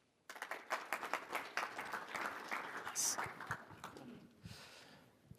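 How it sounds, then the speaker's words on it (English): Audience applauds to welcome two speakers on stage at a tech investment conference, a burst of clapping that starts abruptly, builds and then fades over about five seconds. "So please welcome on stage with a nice applause, Parimi and Charlie Lambropoulos."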